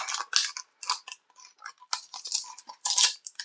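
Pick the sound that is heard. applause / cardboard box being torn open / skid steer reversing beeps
cardboard box being torn open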